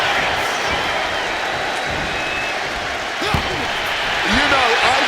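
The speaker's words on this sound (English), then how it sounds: "I can barely hear myself think this crowd is looking to bring the house down tonight" Loud arena crowd noise in the WWE 2K26 wrestling video game, a dense continuous roar with occasional thuds from the ring and a commentator's voice heard intermittently.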